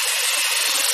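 An electric mixer whips buttercream with its speed slowly raised, a continuous bright whirring hiss close by, with no talk.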